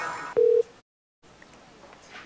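A telephone line gives one short, loud steady tone over faint background noise, then the line drops to total silence before quiet room noise returns.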